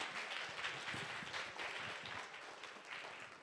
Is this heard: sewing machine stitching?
no